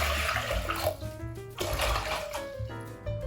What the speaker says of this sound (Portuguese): Agora eu vou dar uma leve escaldada nestes pés, para isso eu coloco 2 litros de água numa panela.